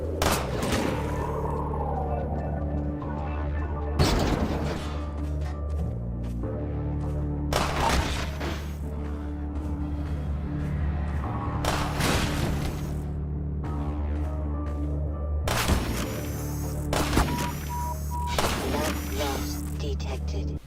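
Combine soldiers attack in Half-Life 2 with bursts of gunfire, rapid shots and thuds crackling over a dense game soundtrack, irregular volleys repeating throughout, loud and close.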